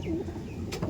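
A pair of Madras flying pigeons, one male and one female, being handled by hand, with a short burst of wing flapping near the end over a steady low background.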